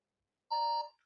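A countdown timer's alarm sounds at the end of a ten-second quiz window: one steady electronic beep, loud and alone, lasting about a third of a second before cutting off with a short faint tail.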